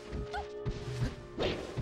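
Repeated smash impacts from Peach's down smash in a Super Smash Bros. Melee tournament match ring out, several sharp hits spaced across a busy game soundtrack with faint crowd noise.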